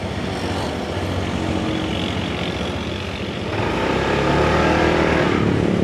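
Steady engine drone of a vehicle driving on a road behind a red car, loud and continuous throughout, swelling slightly louder midway as it picks up speed.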